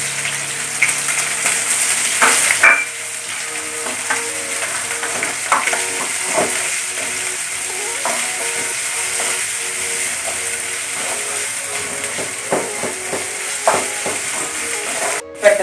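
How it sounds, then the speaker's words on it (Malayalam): Chopped onions sizzle and fry in a pan while egg curry is being made, a steady broadband hiss with scattered stirring scrapes and clicks, strongest in the first few seconds and continuing close and even, with no voices. "നമുക്ക് സവാള അരിഞ്ഞിട്ട് വെച്ച് കൊടുക്കാം"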